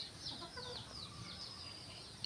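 Chickens let out to forage on grass and leaves in a rural yard in the late morning, with soft clucking and chirpy fowl calls scattered over a steady outdoor background, fairly quiet and without talk.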